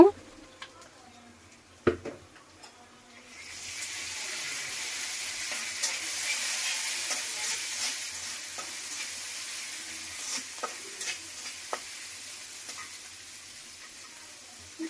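Garlic paste and a little onion hit a pan of low-oil fish curry with stalks and burst into a steady, bright sizzle, with stirring scrapes running through it after a few quiet seconds of light clatter.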